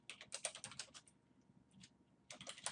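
Typing on a computer keyboard, two fast bursts of light, clicky keystrokes separated by a brief pause, quiet and close.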